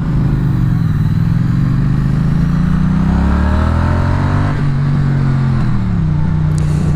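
Triumph Street Twin roadster with a parallel-twin engine running steadily near the listener, a low throbbing drone that rises and falls slightly in pitch with no voices.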